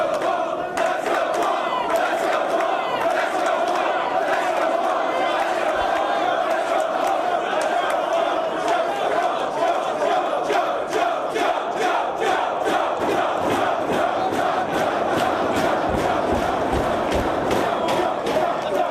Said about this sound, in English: This crowd in Dayton showing their support for both men